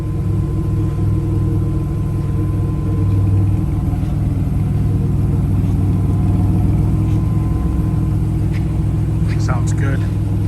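A 1989 Turbo Trans Am engine runs under the open hood, a steady low rumbling idle throughout, close and fairly loud, with a brief clatter near the end.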